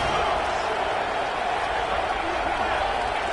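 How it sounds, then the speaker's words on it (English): A stadium crowd at a college football game, Miami against Notre Dame, roars steadily as the opposing team lines up for a late two-point try, a loud continuous wash of cheering with no break. "Listen to the crowd trying to help their defense stop the 2-point try."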